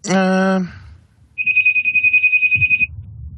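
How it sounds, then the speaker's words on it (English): A phone rings loudly and close by during a tabletop role-playing game session: a short buzzy tone, a brief pause, then a sustained high electronic ring that pulses for about a second and a half before stopping. "Sorry, phone ringing."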